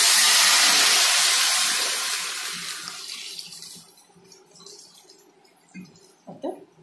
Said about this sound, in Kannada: 1 ಕಪ್ ನೀರು ಹಾಕ್ತಾ ಇದ್ದೀನಿ।